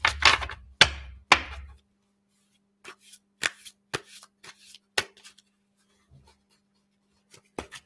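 Tarot cards being shuffled by hand, a few sharp riffling bursts at the start followed by scattered soft slaps and taps as cards are laid down, close and quiet with no talk.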